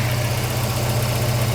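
A Volvo 240 fitted with Dellorto twin carburettors idles steadily and loudly up close, its low, even engine rumble running on without a break and with no voices over it.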